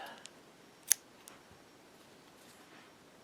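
A single crisp snip of scissors cutting crochet yarn after a slip stitch on a granny hexagon Christmas ornament, quiet and close, with a few faint clicks around it.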